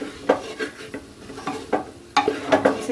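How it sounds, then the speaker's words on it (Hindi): Vegetables for a veg biryani fry with spices in a pressure cooker, sizzling steadily while a utensil scrapes and stirs in repeated strokes. The clatter against the pot is close and clear, with a quick burst of stirring near the end. "इसको मैं डाल दूंगी और डाल के थोड़ी देर फ्राई करूंगी मसालों के साथ में ही"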